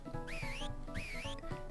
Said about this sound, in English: I think that's supposed to be whistling.